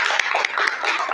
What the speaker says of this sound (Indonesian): Berikan tepuk tangannya ya.